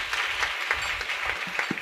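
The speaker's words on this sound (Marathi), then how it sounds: "सर्वांनी टाळ्या वाजवून त्यांचं अभिनंदन." Applause at a Sant Savata Maharaj death-anniversary devotional gathering, a steady patter of many hands across the whole stretch, moderately loud and continuous, with a few low thumps toward the end.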